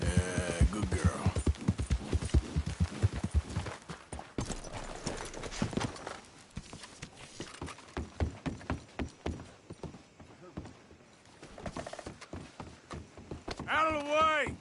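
Horse hooves clip-clopping at a walk in Red Dead Redemption 2, a steady close rhythm of hoofbeats running through while a character talks over it.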